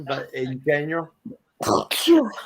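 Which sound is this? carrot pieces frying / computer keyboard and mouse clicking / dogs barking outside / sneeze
sneeze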